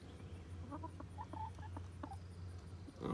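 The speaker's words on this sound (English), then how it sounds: "What are you doing, chicken?" A chicken clucks in a few short, quiet bursts near a truck, against a low, steady engine hum, with no speech.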